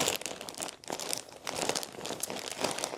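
A plastic bag crinkles and rustles close up as a denim dress is wrapped in it, a dense, continuous crackling with small surges and no talking.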